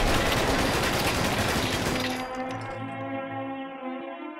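Crude Blowback rifle from Fallout 4 firing a dense, rapid burst of crackling shots up close, then cutting off into a ringing, tonal tail that fades away.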